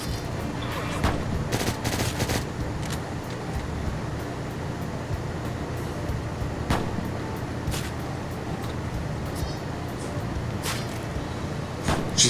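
Gunfire in the video game Deadbolt, a run of sharp shots scattered over a constant low mechanical hum, some in quick clusters and others spaced apart.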